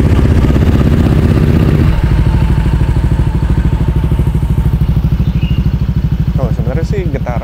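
Honda Vario 160 scooter engine idling after warm-up, a steady close-up putter with a rapid even pulse throughout and a brief louder rev near the start.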